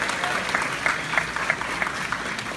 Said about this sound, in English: Make some noise. Give it up for Ms. Padilla